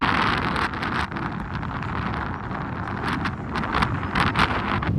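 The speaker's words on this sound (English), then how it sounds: "It's blowing a proper gale up at the top there." Strong wind gusts buffet the microphone on the rooftop of the Oslo Opera House in Norway, a continuous loud roaring rush with surging peaks and no voices.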